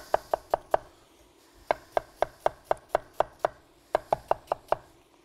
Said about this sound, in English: Now the cabbage, I don't cut it into squares. I like to shred it.